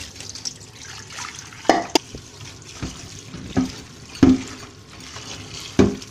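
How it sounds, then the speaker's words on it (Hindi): Bitter gourds being rubbed and washed in a basin of water for a meat and bitter gourd dish, soft sloshing and dripping with a few louder splashes spaced every second or so, no talk. "मल मल के ऐसे ही हम पानी में धोएंगे इन्हें"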